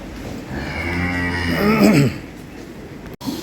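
A dairy cow on a farm in Sylhet gives one long, loud, close moo that swells and then breaks off, with a steady farmyard hum before and after and no talking.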